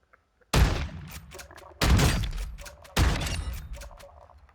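Three loud, booming shotgun blasts from Warzone 2 (Modern Warfare 2022). Each comes about a second apart and leaves a ringing, mechanical tail before the next shot.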